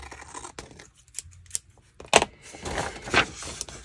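Corners are cut off a composition book cover, giving a few crisp snips and rustles of the cover material, close by and sparse, with quiet gaps between cuts.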